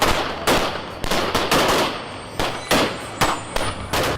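Gunfire in Port-au-Prince, Haiti, rings out as loud, sharp bursts of shots, repeated irregularly at close to middle range with rapid clusters.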